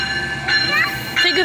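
A Metrolink train passes nearby with a low rolling rumble, broken by two brief, bright tonal bursts.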